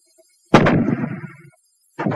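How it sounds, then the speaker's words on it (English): A WW2 fragmentation grenade goes off in one sharp, loud blast that rumbles and decays over about a second, followed by the onset of a second burst at the end. "The fragmentation grenade."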